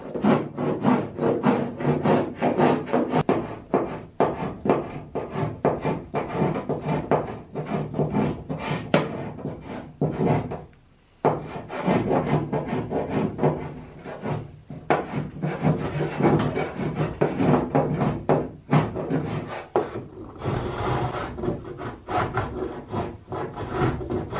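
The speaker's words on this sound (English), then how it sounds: "The left behind tape and excess epoxy were removed with chisel and scraper." Chisel and scraper scraping leftover tape and excess epoxy off wooden rubbing strakes on a boat, a steady run of close, dense rasping strokes that breaks off briefly once in the middle before starting up again.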